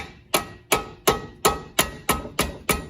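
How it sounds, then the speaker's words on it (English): Eight sharp, evenly spaced dead blow hammer taps on an Acura TSX/Honda Accord during brake pad and rotor replacement, close and loud, each with a short dull thud and a quick decay, no talking. "just take this Deadblow Hammer, just give it a"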